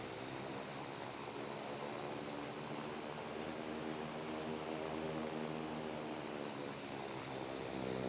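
A Dash 8 turboprop airplane taxis to parking with a steady, even propeller and engine drone that holds at a fairly soft level throughout, and no voices are heard over it.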